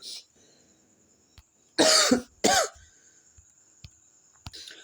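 Two loud, harsh coughs from a cold, close together, preceded by a faint throat sound, with near-silence and a few small clicks around them.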